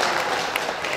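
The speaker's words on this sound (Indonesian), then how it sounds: "Tepuk tangan sikit." A brief burst of audience applause at a Malay World Islamic World (DMDI) awards night, dense clapping filling a single second.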